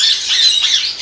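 A single bird gives a loud, harsh, close squawk that wavers in pitch and lasts about a second, heard alone.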